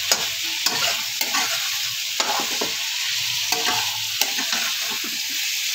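Potatoes and cauliflower frying with spices are stirred in a pan, with rhythmic scraping and clacking strokes every second or so over a constant close sizzle, no voices.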